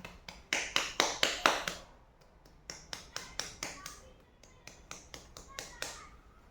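Hand clapping imitating rain slowing down: a quick run of sharp claps, then a pause, then sparser, softer claps spaced further apart as the pattern eases off, with no talking.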